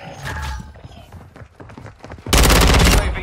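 An ISO 9mm fires in a video game: scattered sharp shots and thuds give way to a dense, loud sustained burst of rapid automatic fire close by, with voices briefly heard in the mix.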